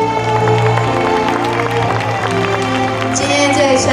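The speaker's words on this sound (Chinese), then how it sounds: "请大家再给焕焰一个热情的掌声" A crowd claps warmly to welcome the groom and his mother-in-law into a wedding hall. The steady, dense applause runs throughout over loud music.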